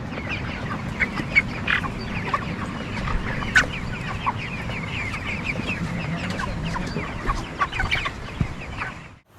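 A flock of 26-day-old broiler chickens clucks and chirps continuously in a poultry shed, with many close, overlapping calls and no talking.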